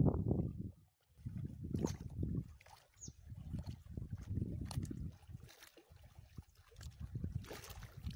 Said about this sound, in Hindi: इसकी आप आवाज़ सुने, पानी की अपनी आवाज़ कितनी है ना